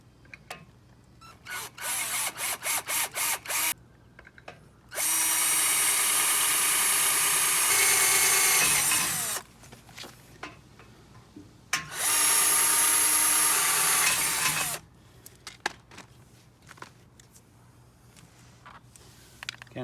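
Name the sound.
power drill drilling holes in a boat trailer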